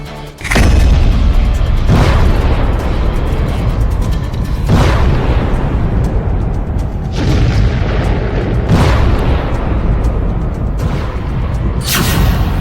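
Explosion sound effect representing a B-2 bomber strike on nuclear sites, a series of deep, loud booms repeating every few seconds over a continuous heavy rumble.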